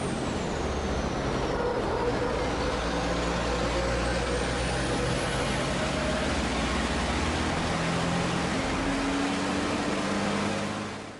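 On-board a European Truck Racing Championship race truck driven by Norbert Kiss in 2019, a loud continuous engine roar with shifting pitch and turbo whine dominates under steady wind and road noise, with no talk.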